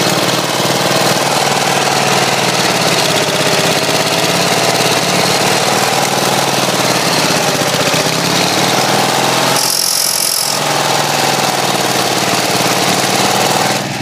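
Tractor engine running loudly and continuously nearby, a steady mechanical drone with a slightly wavering pitch, apparently troubled by its governor, and a brief whooshing burst partway through.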